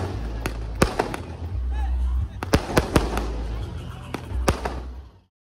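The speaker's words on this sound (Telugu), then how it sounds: "ఇక్కడ వచ్చేసి ఫుల్ ఇంకా టపాకాయలు అండి, ఫుల్ సౌండ్ వచ్చేసింది." Diwali firecrackers and fireworks burst outdoors in a series of sharp, loud bangs and crackles over a continuous rumbling wash, with faint crowd noise.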